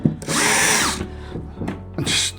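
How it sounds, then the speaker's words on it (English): Power drill backing screws out of a TT120 model railway layout, two loud whirring bursts, a long one then a shorter one, with a brief pause between, close up and with no talking. "The other thing you could do is take the screws out."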